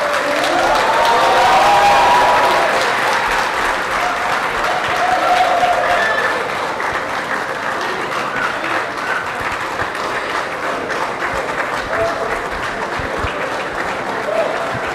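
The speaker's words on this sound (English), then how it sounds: "Please keep clapping until he gets here." Conference audience at an AI and robotics event keeps up long, continuous applause, a thick wash of clapping that swells early then holds steady, with faint crowd noise and scattered voices underneath.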